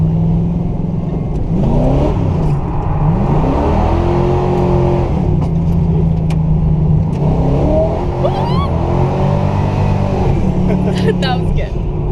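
A Camaro's engine revs and surges through street drifting S-turns, close and loud with rising and falling pitch and tire noise, while people talk inside the car.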